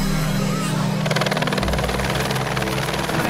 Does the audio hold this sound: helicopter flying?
yes